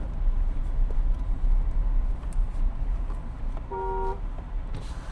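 A police-style car fitted with a hooter and lights sounds a short horn toot over a steady roar of traffic and engine noise outdoors.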